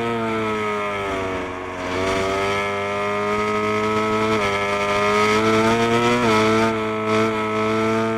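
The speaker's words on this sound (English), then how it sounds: "that engine braking is real in this game" Sustained motorcycle engine in the racing game TrackDayR, a new 1000cc MotoGP bike, droning loud and steady with harmonic pitch sliding down and back up as the bike brakes on the engine and re-accelerates through corners.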